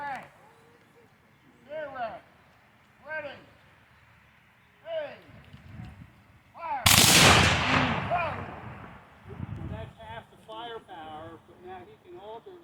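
Civil War reenactors fire muskets by rank: spoken commands, then one loud, ragged volley crashes out and rolls away, followed by more shouted talk.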